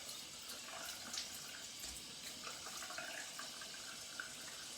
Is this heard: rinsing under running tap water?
yes